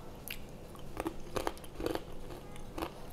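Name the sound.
crunch of biting homemade green banana chips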